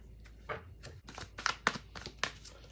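Quick riffling and flicking of playing cards being shuffled, a series of soft papery snaps close by, fairly quiet.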